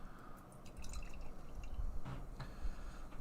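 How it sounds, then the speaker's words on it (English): Mikkeller Traeblod Imperial Stout is poured into a tulip glass, a soft, quiet gurgle and splash of thick beer filling the glass over a few seconds. "So let's pour this guy"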